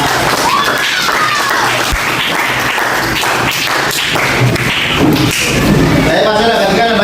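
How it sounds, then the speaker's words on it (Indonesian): A group of students in a classroom applauds themselves before group work, loud clapping mixed with thumps, taps and voices from the room, steady and close throughout. "tepuk tangan dulu untuk kalian"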